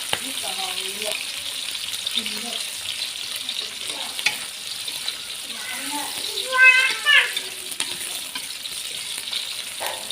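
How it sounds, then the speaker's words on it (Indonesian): Shallots and garlic fry in oil with a steady, moderate sizzle and occasional stirring, while a person talks over it intermittently throughout. "semua bawang merah, bawang putih kita cemplungin seperti ini"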